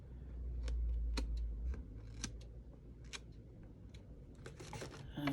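Scissors snip along the edge of craft material in a series of sharp, close clicks spread irregularly through the clip, with a low hum and rustle underneath.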